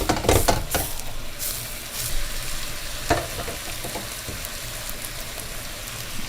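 Meat for ghormeh sabzi sautés in a pot with a steady, close sizzle and frying hiss, broken by a few sharp stirring clinks from utensil against pot.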